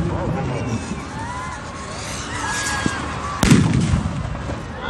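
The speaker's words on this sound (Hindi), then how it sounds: "एक आतिशबाजी का सुनहरा दृश्य दिखाया जा रहा है" Fireworks pop and crackle at a distance after the Ravana effigy burning at a Dussehra festival at Gandhi Maidan, Patna, amid crowd noise and loudspeaker-style talk, with one sharp bang standing out near the end.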